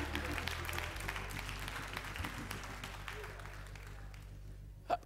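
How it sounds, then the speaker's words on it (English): A church congregation on youth day claps together in praise, a full, steady patter of many hands over a low hum that thins and fades toward the end, followed by a couple of sharp knocks. "give God a hand clap of praise"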